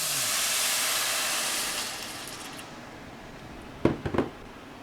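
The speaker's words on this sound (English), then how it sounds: "I'm going to pour 5 cups of water in for my 2 cups of rice." Five cups of water for two cups of rice hit a hot pan in a kitchen, giving a strong steamy hiss that fades over a couple of seconds, followed by a few soft clinks.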